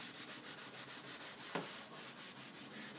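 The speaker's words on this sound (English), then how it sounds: "rub the wax into the wood in the direction of the wood grain just to achieve a nice uniform look" Rubbing wax into a painted or stained wood surface along the grain, heard as a steady, close, rhythmic back-and-forth scrubbing with regular strokes and one brief sharper scrape midway, with no talking.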